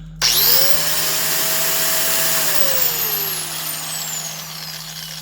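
Porter-Cable 4-1/2 inch high speed 12,000 rpm grinder spinning up with a sharp start, then a steady loud whine that holds and slowly winds down, close and alone.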